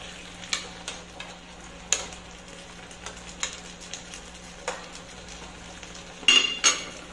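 Okra stirred with sweet chili sauce in a pan sizzles softly under scattered metal scrapes and clinks from the utensil, growing busier in a brief burst near the end.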